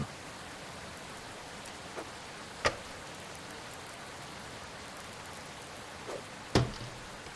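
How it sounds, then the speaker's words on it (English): Steady rain falls during a thunderstorm on a farm, a soft continuous hiss with a few sharp drips or taps standing out, heard alone without voices. "The sound of that rain and thunder, it's getting me excited mentally."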